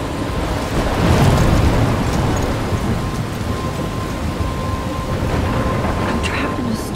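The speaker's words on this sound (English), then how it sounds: "I'm trapped in a storm?" Heavy rain and rumbling thunder in a video game storm scene, a loud, dense, steady downpour with a low roll of thunder near the start, continuing without a break.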